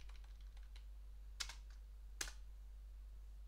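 Linux commands being typed on a computer keyboard: a few faint, scattered keystrokes with two sharper clicks, over a steady low electrical hum.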